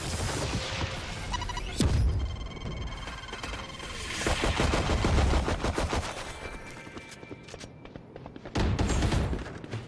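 Machine gun fire in the video game Valorant: rapid bursts of automatic shots crackle in dense volleys, pausing and resuming, with a final loud burst near the end, loud and close.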